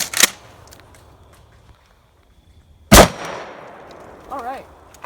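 Shotgun blasts at an outdoor shooting range: two sharp, loud reports a few seconds apart, each followed by a brief ringing decay, with a short voice afterward.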